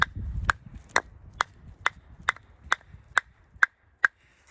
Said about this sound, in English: that's the sound of really aged wood